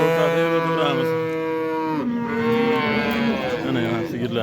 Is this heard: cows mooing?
yes